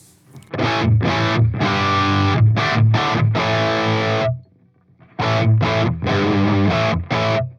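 Distorted electric guitar chords through a Marshall JMP preamp on its 70s setting with no effects hit in choppy rhythmic bursts, a brief pause in the middle, then another run of punchy strums.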